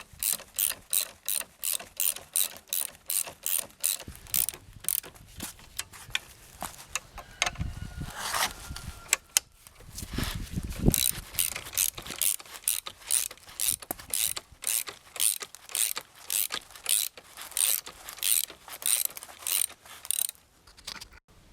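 A ratchet wrench tightens coil spring compressors on a car shock absorber, making rapid, loud, regular clicking bursts close by. The bursts are broken by short pauses and a few metallic clanks.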